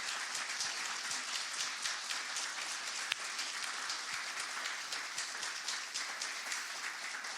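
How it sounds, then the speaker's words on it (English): An audience applauds graduates of a financial supervision program, a sustained even clapping from a large room, fairly distant and soft, with no talk over it. "Let's give them a round of applause"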